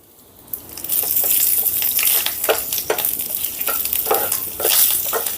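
Mustard seeds, garlic cloves, red chilli pieces, curry leaves and a pinch of asafoetida fry in hot oil for a tempering, a steady close sizzle broken by sharp crackles and pops.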